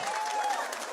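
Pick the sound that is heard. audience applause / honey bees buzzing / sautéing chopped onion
audience applause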